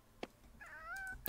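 A cat in the video game The Sims 4 gives a single clear, drawn-out meow, framed by a couple of faint clicks before and after.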